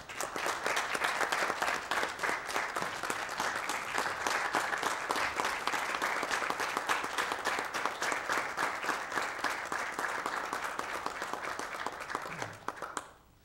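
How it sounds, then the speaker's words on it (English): Steady, dense clapping from a room of attendees at a park district board meeting continues for about twelve seconds, then quickly dies away. "A round of applause for these guys."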